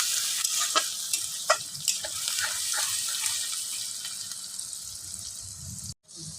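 Chopped onions frying in oil over whole spices for a fish curry, a bright steady sizzle with spatula scrapes and knocks early on, fading slightly before a brief cut near the end, no talking.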